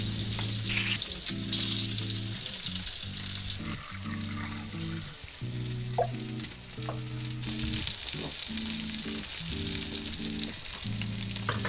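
Crispy-skinned duck breasts fry steadily in a hot pan, a continuous close sizzle that grows slightly louder toward the end, with a rhythmic low hum running underneath, while potatoes boil nearby.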